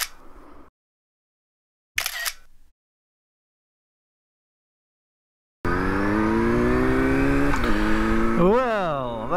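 A Honda CBR600RR sport motorcycle engine starts and idles loudly up close, then revs up and down twice in smooth rising and falling sweeps, after brief bursts of wind noise and a stretch of silence.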